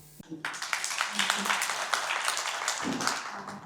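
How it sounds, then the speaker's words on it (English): A conference audience breaks into applause after a talk, a rising burst of many hands clapping that fills the room, fairly distant and steady before tapering off. "Give them a round of applause."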